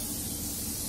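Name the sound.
Morphe setting spray being sprayed as a mist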